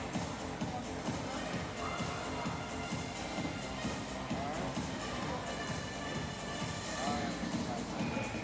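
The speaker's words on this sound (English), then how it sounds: "The crowd filling up inside the arena" Crowd filling an arena before a Brazil versus Canada match, a steady murmur of many voices and shuffling feet, constant and moderately distant, with commentary running over it.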